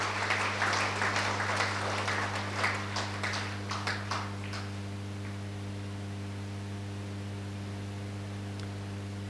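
Audience applause at a spiritual event, a burst of clapping that thins into a few scattered claps and dies away after about five seconds, over a steady electrical hum.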